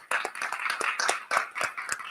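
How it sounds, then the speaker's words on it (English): A small audience at an ADAMA arts salon claps for exhibition artists, giving brief, fairly sparse and uneven applause with a dozen or so distinct hand claps. "a big round of applause to all of the artists who participated in the exhibition"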